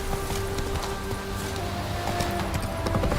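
Horse hooves clop at a steady trot in The Witcher 3, a close rhythmic patter of beats over a constant ambient hum, with no talk over them.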